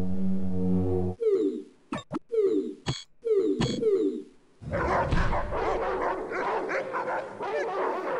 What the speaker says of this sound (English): Those are some animated 90s cartoon dogs.